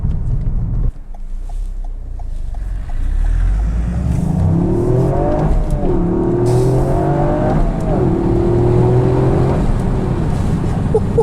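A Toyota Yaris GR accelerating hard, its engine and exhaust climbing through the revs with rising tones and a throaty note above 4,000 RPM, loud and close throughout.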